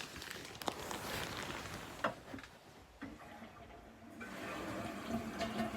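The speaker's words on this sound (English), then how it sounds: "every time I flush my toilet" A household toilet flushes and refills, giving a soft gurgling rush of water with a few sharp clicks and knocks, then a steadier hiss of refilling. The sound is faint and stays at moderate distance.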